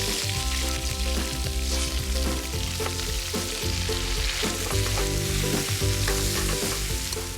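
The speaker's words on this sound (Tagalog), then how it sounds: "Pwede na natin lagay yung ating aromatics" Aromatics hit hot fat beside browned duck in a pan, setting off a loud, steady sizzle with frying crackle and stirring scrapes throughout, no voices.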